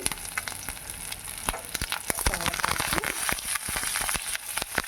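Cumin, garlic and finely sliced onions sizzle and crackle steadily in a hot pan for several seconds, with occasional sharper pops and scraping stirs, close and moderately loud, no talking.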